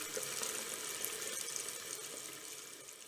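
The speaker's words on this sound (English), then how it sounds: "the smart tradies always remember to clean tools and equipment with warm water and detergent" Warm water runs steadily from a tap as tools and equipment are cleaned with detergent after laying a waterproofing membrane in a wet area, a continuous close hiss and splash with no talking.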